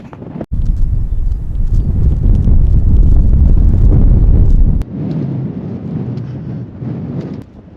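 Strong wind buffeting the microphone on the hillside at Hambledon Hill, a loud roaring gust for several seconds that drops abruptly to a lighter, steady blow.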